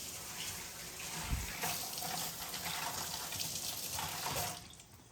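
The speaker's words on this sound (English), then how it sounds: "So what we want to do is wash that cucumber off." Tap water runs into a kitchen sink as a cucumber is rinsed for a salmon meal, a soft continuous splashing stream with a low thump near the start, fairly quiet and close.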